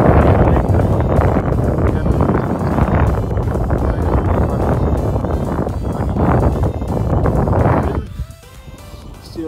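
Strong wind buffets the microphone during a bike ride, a loud continuous roaring rush that eases off near the end, with no talking.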